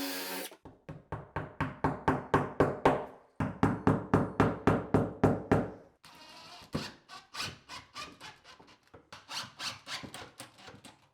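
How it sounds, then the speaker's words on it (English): A power drill fitted with a 1/4 inch bit bores into bathroom wall tile, giving close, loud bursts of rapid grinding pulses that stop and restart a few times. "Now we're going to be just drilling right into the tile."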